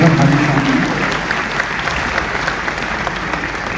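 At a mushaira poetry gathering, an audience claps in encouragement, a steady, fairly loud wash of many hands sustained throughout with a faint murmur of crowd beneath.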